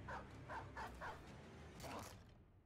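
A dog barking in a video game, a quick series of four sharp barks followed by one more after a short pause, close and fairly loud over a low background rumble.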